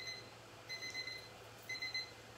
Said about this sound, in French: Le petit minuteur